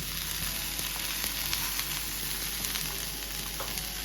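Masala for a village-style chicken sambar fries in a pan, giving a constant quiet sizzle with faint stirring ticks throughout and no voices.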